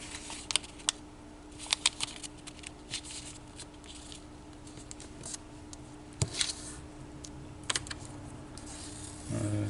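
A dollar bill is folded by hand for origami, soft close paper creases and taps coming in scattered light clicks over a quiet hum.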